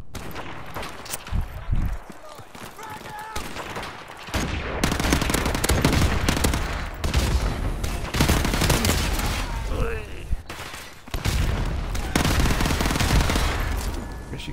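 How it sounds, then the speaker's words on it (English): Heavy gunfire from Call of Duty Modern Warfare Remastered multiplayer fills the clip: dense bursts of automatic fire and sharp shots, loud and continuous through most of the span, with a lull early on and game effects mixed in. "Guess you can shoot through things."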